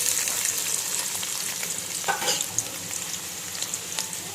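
Oil heating and frying in a pot on the stove, a steady, fairly quiet sizzle close by with faint crackles and an occasional small scrape or tap.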